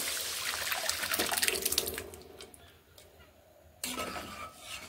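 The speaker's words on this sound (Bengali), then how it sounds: "এবার আমি এখানে দিয়ে দিচ্ছি সেদ্ধ করে রাখা ডাল" Boiled dal being poured into a pan of fried spices: a steady liquid pour and splash that fades midway, then a second shorter pour near the end.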